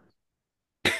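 A single sharp cough from a woman breaks a silence late in the moment, close and loud, with a faint murmur at the very start.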